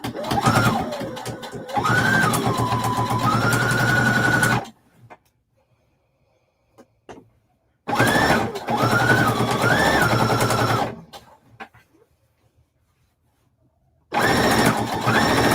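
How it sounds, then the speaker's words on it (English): A sewing machine runs in long steady bursts while basting and stitching around the edge of a turkey placemat, with short pauses between runs; close, loud and mechanical, with no talk. "Just doing a baste and stitch around the whole thing."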